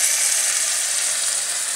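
Water splashed into a hot pan of browning chicken hisses into a loud, steady sizzle, a bright crackling fry that holds without pause and with no talking.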